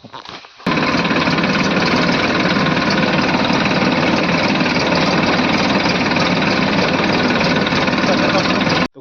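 A new Massey Ferguson tractor engine starts up, then runs loudly and steadily, a close, constant mid-pitched diesel drone that continues unbroken until it cuts off at the end.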